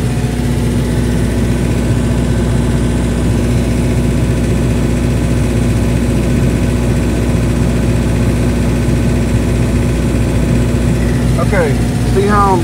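A generator engine runs steadily under the load of an ice machine, drawing around 28 to 33 kW. It gives a loud, continuous low drone with a constant hum that stays even throughout.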